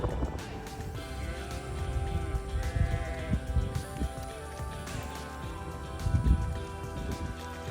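Lactating goats bleat from a barn area amid continuous background noise, with several overlapping calls rising and falling across the stretch, moderately close and fairly loud.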